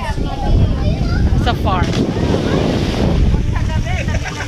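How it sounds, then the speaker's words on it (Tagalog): Strong night wind buffets the microphone on a farm with a rough continuous roar, while people talk over it. "Ang ganda, lakas ng hangin"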